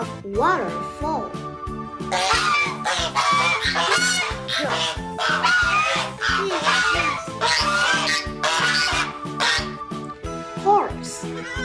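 Goose honking repeatedly, loud nasal honks in quick irregular bursts close by, over steady background music with a voice speaking at points.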